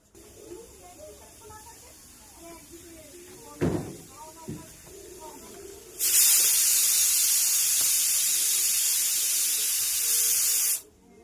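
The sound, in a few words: water spraying while washing a scooter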